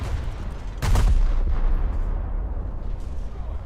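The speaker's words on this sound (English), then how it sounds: "Just keep firing." A single heavy gun blast in the tank battle game War Thunder, played with a 9.3-rated Italian lineup, booms out sharply over a steady low rumble of engine and battlefield noise.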